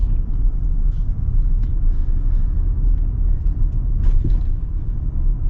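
A factory lifted 2024 Toyota Tundra with a torquey V6 drives along, heard from inside the cab as a loud, steady low rumble of engine and road noise with no talk.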